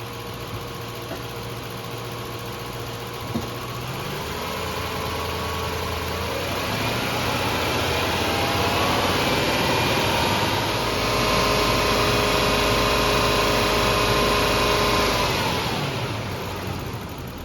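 A 1990–1997 Lexus LS400 engine idles steadily, then is raised to a sustained higher rev around 2,000–3,000 RPM and held, a smooth mid-pitched drone with a faint high whine throughout, no voices.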